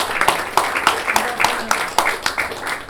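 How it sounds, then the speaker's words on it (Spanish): A small audience at a book presentation at a film museum claps on a rainy day, distinct individual claps in a loose, fairly regular rhythm, close and clear, with a voice faintly present. "Otro aplauso para el Museo del Cine, que nos reunió, nos cobijó en este día de lluvia."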